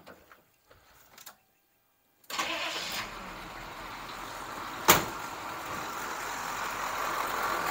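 A 6.2/6.5 diesel engine starts up after a few quiet clicks and a short pause, then settles into a loud, steady idle, with one sharp knock partway through.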